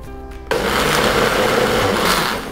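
A blender purees pandan leaves with water, starting abruptly after a brief moment of quiet into a loud, steady, high-pitched motor whirr that holds close and constant before easing slightly at the end.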